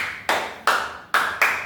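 Four sharp, close hand claps in an uneven rhythm, part of a classroom clap chant led during a micro-teaching lesson, each clap ringing briefly before fading, with no talk.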